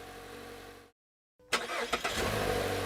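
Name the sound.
Mazda 6 SkyActiv-G engine idling after push-button start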